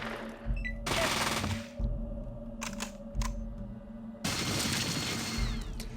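Minigun fire from Fallout 2: long bursts of rapid, dense rattling shots alternating with brief pauses, harsh and loud throughout, with a low thudding impact underneath and no voices.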